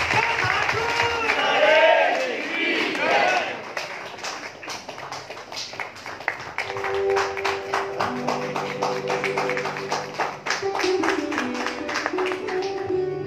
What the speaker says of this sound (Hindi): खूब तालियां बजा करके